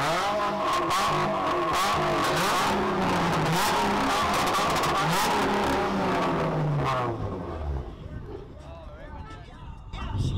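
A 1,000-horsepower car accelerates hard with a loud, rising engine roar and revving that fills most of the clip, then drops away toward the end, with people talking over it.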